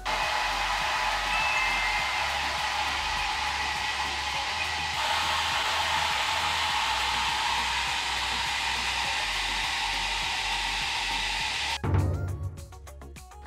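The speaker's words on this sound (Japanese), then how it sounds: "次にドライヤーで乾かしていきます。" A hair dryer blows steadily and loudly for about twelve seconds while bangs are dried and styled, its tone shifting slightly partway through, then it switches off.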